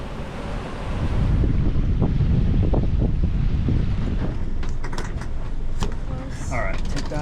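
Strong wind blowing across a sailboat at sea at about 7 knots, roaring in the microphone with waves splashing against the hull, loud and continuous, while people talk faintly.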